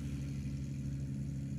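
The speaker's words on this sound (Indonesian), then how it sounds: "Ini menggunakan traktor dan VMAX untuk melakukan pemanenan rumput" A tractor engine running steadily during mechanized grass harvesting, a low continuous droning hum at even volume, with no voices over it.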